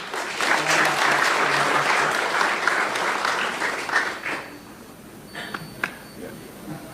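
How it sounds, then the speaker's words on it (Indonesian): Students and guests at a school visit in Tabanan, Bali break into applause, a thick round of clapping that holds for about four seconds, then tapers to a few scattered claps amid quiet room sounds. "Tepuk tangan loh."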